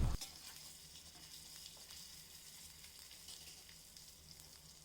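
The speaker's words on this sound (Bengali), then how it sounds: "30 সেকেন্ডের জন্য ফ্রাই করে নেব।" Whole spices (cumin, small cardamom, clove, cinnamon and bay leaf) fry in hot oil in a kadai, giving a steady close sizzle with light stirring scrapes throughout, no voices.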